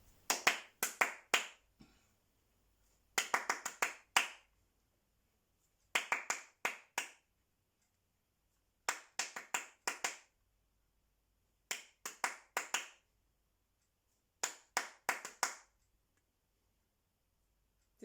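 Short bursts of crisp hand clapping in varied rhythmic patterns from a body percussion music lesson, close and clear, each phrase separated by a few seconds of silence.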